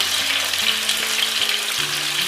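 Steady oil sizzle and crackle as chili peppers pan-fry in a hot pan, fairly close and continuous, with no voices.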